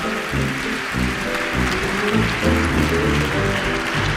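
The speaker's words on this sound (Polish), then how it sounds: "Proszę o brawa dla dyrekcji." A studio audience at a Polish radio station's New Year 2022 broadcast applauds the station management. The clapping is dense, steady and sustained, with no voices over it.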